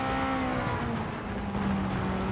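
Rally car engine in the racing video game Gran Turismo 7, a steady, loud, sustained drone held at high revs throughout, with no talk over it.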